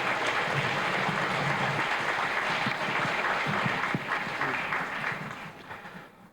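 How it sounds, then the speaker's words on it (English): Audience applause for a contestant at a 1993 fourth-grade spelling bee: steady, moderately quiet clapping that thins out and fades near the end. "let's have a round of applause for Jolyn Driver."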